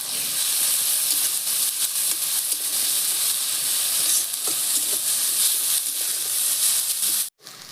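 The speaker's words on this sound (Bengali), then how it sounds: "পেঁয়াজ আদা রসুনটা খুব ভালো করে ভাজা হয়ে গেছে" A steady, loud sizzle of onion, ginger and garlic frying in hot oil, hissing continuously with faint stirring clinks, ending in a brief cut.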